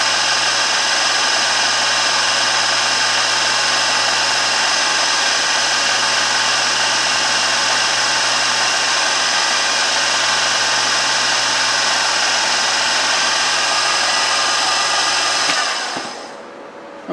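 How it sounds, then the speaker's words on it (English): A drill turns a bit into the workpiece for an open column crank, a loud, steady high motor whine that holds for about fifteen seconds before winding down to a stop. "let me get another drill bit and we'll continue with this. Alright, so let's get this thing drilled."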